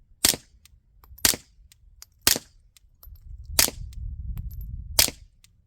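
Five subsonic .22 rounds fire through a Huxwrx Flow titanium suppressor, each a short, muffled crack at roughly one-second intervals, with faint low rumble and handling noise in between.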